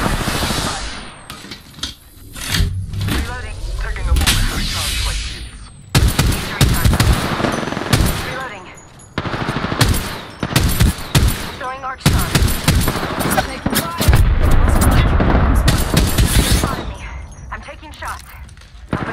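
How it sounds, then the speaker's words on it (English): Apex Legends gunfire crackles in loud, rapid automatic bursts separated by brief pauses, dense and close, with a few heavier thuds mixed among the volleys. "I'm shooting, I'm shooting, I'm shooting."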